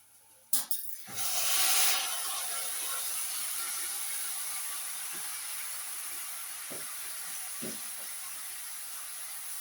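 Rice tipped into a hot pan of browned onions for an Egyptian home-cooked fish meal gives a sudden loud hiss that settles into a steady, even sizzle lasting several seconds, with a few faint taps under it.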